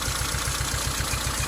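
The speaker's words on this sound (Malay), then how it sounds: "apabila saya cabut plug yang pertama ni, enjin akan macam nak mati" A Proton Wira engine idles roughly with a spark plug removed, close up, giving a steady low pulsing throb with an uneven, chugging rhythm as if close to stalling.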